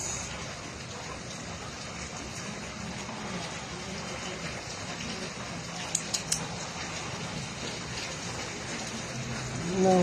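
Continuous heavy rain from a typhoon hissing steadily, with a few sharp clicks midway and a faint rumble near the end.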